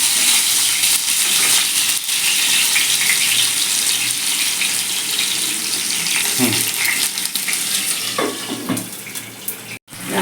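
Potatoes fry in a pan over a gas flame for a vegetarian potato and pointed gourd muri ghonto, giving a loud, steady close-up sizzle throughout with a few faint clinks near the end.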